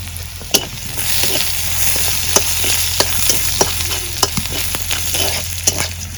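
Cumin seeds sizzle and crackle in hot oil in a pan, with steady frying hiss, stirring scrapes and sharp pops spaced through the whole stretch, close and fairly loud with no talking.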